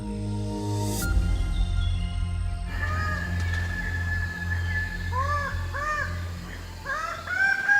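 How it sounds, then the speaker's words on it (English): Birds of paradise in Papua New Guinea give loud, harsh honking calls in short repeated bursts over a low hum, with a few higher squeaks early on and no talk. "These are the birds of paradise."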